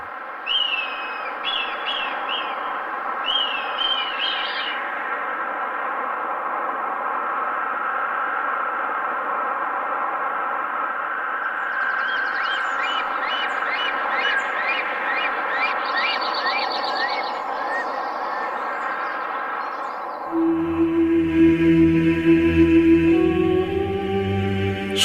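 Birds call in the Foz de Burgui mountain gorge, repeated short chirping phrases and whistled trills over a steady background hum, with a music-like tonal bed entering near the end.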